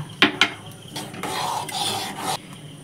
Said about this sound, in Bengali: দেখো মা এখানে 4টে আমন্ড গ্রেট করে নিয়ে ওপর থেকে দিয়ে দিল।